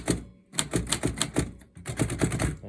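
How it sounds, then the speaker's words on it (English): Keys strike on a Royal Model O typewriter in a quick, close, crisp clatter of about a dozen evenly paced clacks, with a short pause between two bursts. "then you can start typing."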